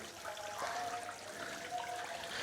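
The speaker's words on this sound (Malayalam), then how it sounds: "ഇത് ഇപ്പോൾ നമ്മുടെ ഫൗണ്ടൻ ഒന്ന് പുറത്തേക്ക് വന്നു കണ്ടോ, വർക്കിംഗ് ആണ്" A small garden fountain in a yard pond holding guppies runs steadily, a soft continuous trickle and splash of water heard close by with no talking.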